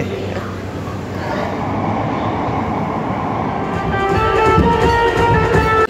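Steady rumble of a Mumbai Metro Line 3 underground train. A rising electric whine and squeal join near the end as it moves through Santacruz station.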